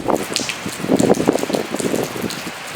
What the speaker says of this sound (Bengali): গতকাল সন্ধ্যা থেকে পটুয়াখালীতে শুরু হয়েছে মুসুলধারে বৃষ্টি